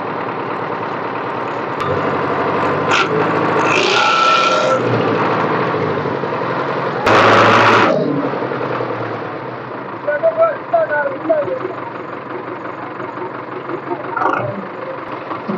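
A tractor engine runs steadily while stuck in mud in rural Punjab, a continuous mid-loud drone with brief surges, and a crowd of onlookers talks over it.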